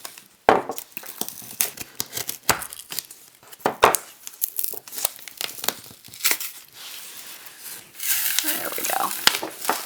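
A cured silicone mold box being cut open to release a sculpture for resin casting gives irregular close crinkling and tearing bursts with sharp snips, and a denser rushing crackle near the end.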